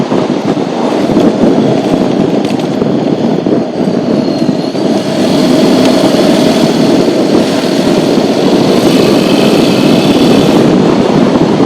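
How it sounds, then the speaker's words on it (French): A Honda NC750X twin-cylinder motorcycle engine hums steadily while riding, a continuous loud drone mixed with wind and road noise, with no talking. "c'est une bécane en bicylindre"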